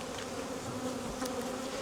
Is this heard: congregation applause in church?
no